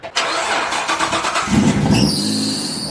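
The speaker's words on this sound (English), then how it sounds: "Oh, that belt squeal though" A Ford XR6 Turbo or XR8 car engine cranks and catches, then a loud, high drive-belt squeal rises and holds as the engine settles, close by and without talk.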